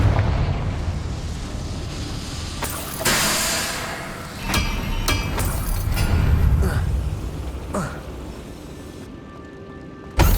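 A Confringo fire spell blasting in Hogwarts Legacy, heavy booming bursts and rumbling impacts rolling through several seconds of game combat noise, with a brief sharp crack near the end.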